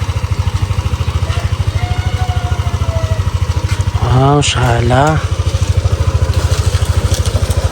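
A motorcycle engine runs nearby with a steady, rapid thumping idle that continues without pause, while a man briefly exclaims over it partway through.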